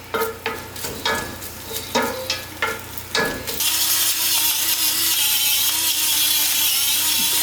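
Spinach being stirred in a hot pot over medium heat, a run of about seven rhythmic scraping, sizzling strokes, then a steady loud sizzle and hiss of cooking greens with no talk.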